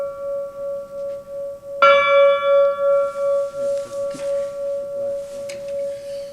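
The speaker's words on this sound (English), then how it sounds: "I'd like to ring a bell in their honor." A single bell struck once in honor of fallen veterans at a Veterans Day remembrance, its clear tone ringing out and slowly decaying over several seconds, with faint room noise and murmuring behind it.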